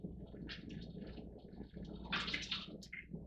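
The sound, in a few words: rinsing mirror glass with distilled water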